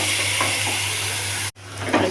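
Spice paste hits hot oil in a pan and sizzles steadily, a loud continuous frying hiss broken by a brief drop in level, with faint stirring scrapes on top.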